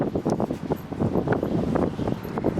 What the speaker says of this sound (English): I just want you to hear how windy my balcony gets.